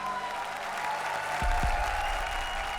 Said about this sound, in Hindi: एक बार जोरदार तालियां हमारी तीनों जोड़ियों के लिए